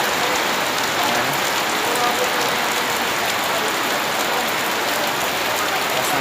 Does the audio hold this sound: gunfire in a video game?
no